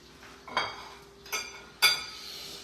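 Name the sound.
plate being picked up among dishes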